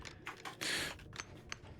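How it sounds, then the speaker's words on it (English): Rapid, loud keyboard mashing on a computer keyboard, a dense burst of clattering keystrokes with a sharper flurry in the middle, close and alone. "Loud keyboard mashing."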